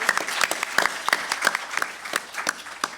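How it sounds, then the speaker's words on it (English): A conference panel audience claps in a dense, steady patter of applause that carries on throughout, with no one speaking. "You can applaud."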